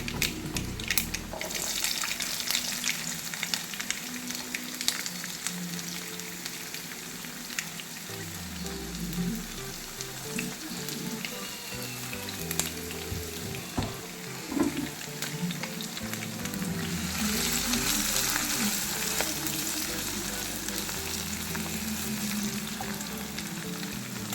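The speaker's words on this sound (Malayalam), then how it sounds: "വെളുത്തുള്ളി നീളത്തിനരിഞ്ഞതും പച്ചമുളക് റൗണ്ടിനും ഇഞ്ചി ചെറുതായി അരിഞ്ഞതുമാണ് ഇതിലേക്ക് ചേർത്ത് നന്നായിട്ട് വഴക്കിയെടുക്കാം" Sliced garlic, rounds of green chilli and chopped ginger sauté in hot oil in a pan for a fish pickle, giving a steady, close sizzle with occasional stirring scrapes throughout.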